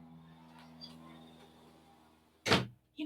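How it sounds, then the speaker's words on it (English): An office door shut on a noisy Friday afternoon, giving one sharp close thud near the end after a low murmur of background noise. "Let me close the door."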